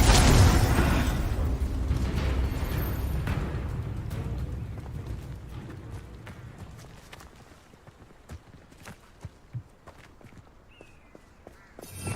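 In Hogwarts Legacy, a Confringo spell bursts in a broad, booming explosion that rumbles and slowly fades, followed by scattered footsteps and small impacts.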